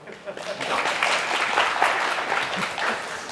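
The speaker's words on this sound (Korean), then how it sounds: "박수 한번 주시죠" Seminar audience applauding at an IBM storage product launch, a dense, steady wash of clapping from a full room that swells quickly and holds at an even level throughout.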